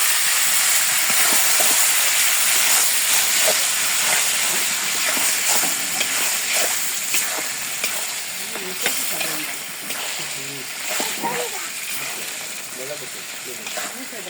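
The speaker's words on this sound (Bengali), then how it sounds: "এখন বাগার দিয়ে দিব।" Steamed kochu shak (taro leaves) being tempered in hot oil, giving a steady broadband sizzle and hiss that persists throughout at close range, with faint clinks and intermittent background voices underneath.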